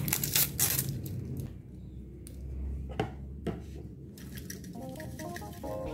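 Cooked rice stirred in a bowl after sprinkling nori flakes over it for chicken mentai rice, making soft squishing and scraping sounds with light utensil clinks, close and fairly quiet.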